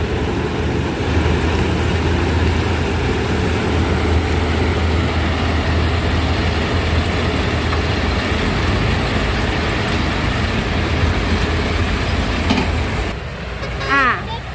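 A small sugarcane harvesting machine's engine runs close by with a loud, steady, rumbling drone that barely changes. A voice breaks in near the end.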